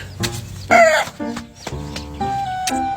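A chicken clucks and squawks in short bursts, close by, with a brief louder flurry near the start.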